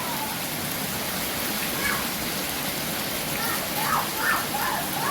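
Heavy rain pours down in a steady, loud, unbroken hiss that swells slightly now and then, with faint voices briefly audible over the downpour.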